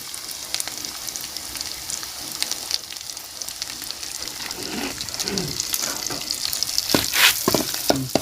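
Food fries in a pan as turmeric powder is added, a steady close sizzle with stirring scrapes and louder spitting bursts toward the end.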